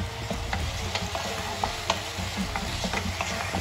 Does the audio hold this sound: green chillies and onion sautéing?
yes